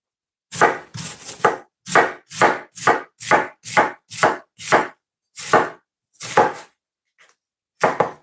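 A knife chops through a fairly large onion on a cutting board for bolognese, with a steady run of about a dozen crisp, close thuds, then a few scattered strokes with pauses.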